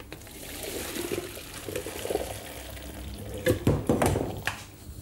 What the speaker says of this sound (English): I think the spaghetti is now cooked and I'm going to drain it.